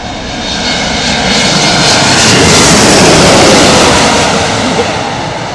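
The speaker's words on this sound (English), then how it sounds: "Sounds like a Dreamliner, man, on steroids." A six-engine jet airliner on landing approach roars loud and close, a dense, continuous engine rumble and whine that swells slightly as it passes overhead.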